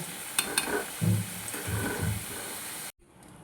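Steady sizzling of hot oil, just used to fry potatoes, fills the clip, with a few louder crackles and spatters, before it cuts to near silence at the end.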